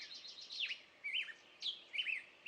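Birds in the Poconos call in short, quiet chirping bursts spaced a moment apart, with several whistled and warbling notes against a hushed backdrop and no talking.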